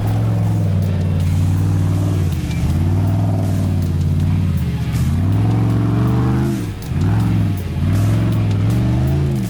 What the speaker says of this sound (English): Their muffler actually sounds really nice on the Hemi.